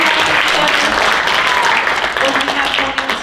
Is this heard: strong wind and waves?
no